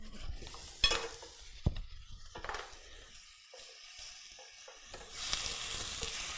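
A burger meat patty sizzles steadily in a frying pan, with a few sharp clinks of a utensil against the pan and a louder hiss swelling near the end.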